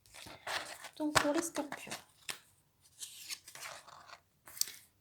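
A deck of tarot cards being cut and shuffled by hand, with crisp papery crunches and flicks close to the microphone, mostly under someone speaking French.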